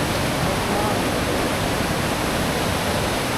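The Ganga rushes fast at Gangotri, filling the air with a loud, dense, unbroken roar of churning water close by.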